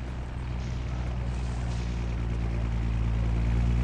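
A helicopter in Far Cry 6 drones steadily with a low, throbbing rotor hum that stays even and fairly loud throughout, with no other clear sounds.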